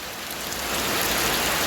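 Heavy rain pours down steadily, a dense hiss that swells louder after the first moment, with no voices.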